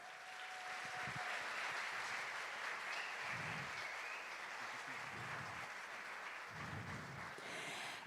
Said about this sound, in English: we can give Professor Hester Klopper another round of applause